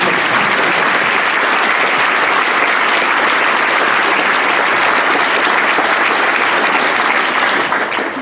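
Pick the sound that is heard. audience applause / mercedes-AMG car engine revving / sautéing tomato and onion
audience applause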